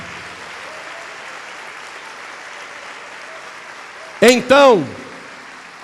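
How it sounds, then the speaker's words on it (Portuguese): A church congregation claps steadily through the room at a moderate level, then a short loud vocal burst cuts in near the end. "Vamos aplaudir ao nome do Senhor."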